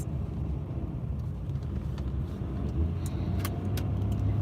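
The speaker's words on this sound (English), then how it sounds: "Why is there so much traffic?" Road traffic with cars passing, a steady broad rumble of engines and tyres continuing throughout, moderately loud, with no voices.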